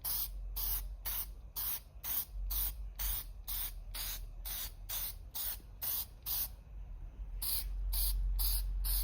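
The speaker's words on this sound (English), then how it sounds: "make sure the nozzle's pretty clean, and then go ahead and start hitting it in light little motions" An aerosol can sprays SEM upholstery paint onto plastic car interior trim in about twenty short, evenly spaced hissing bursts, close and loud, with a longer spray near the end.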